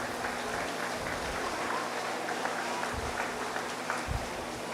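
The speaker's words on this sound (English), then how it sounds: "Let's give him a round of applause" An audience at a 4-H dairy cattle show in Allen County applauds a grand champion, a dense, steady wash of clapping that lasts throughout with a few slightly louder claps.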